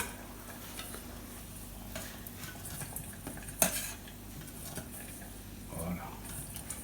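Arancini basted with hot oil in a pan, a soft sizzle with spoon scrapes and clinks against the pan, faint and close, under occasional quiet talk.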